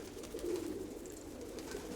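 A flock of fancy pigeons kept in a loft coos softly and continuously, a faint, low murmur under steady background noise, with no one speaking.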